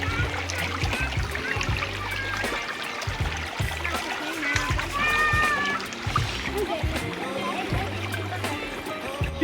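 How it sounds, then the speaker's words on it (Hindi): A natural mountain spring spills down from a height near Abbottabad, a continuous splashing rush of water with bright trickles, while people talk and children play nearby. "ये पानी का चश्मा ये नीचे आ रहा है"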